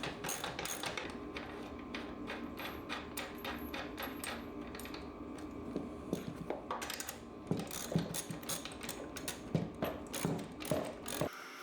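Metallic clinks, taps and ratcheting clicks from work on a Classic Mini's custom suspension, as washers are removed and a rose joint is fitted, dense and continuous throughout, close by in a workshop with a steady background hum.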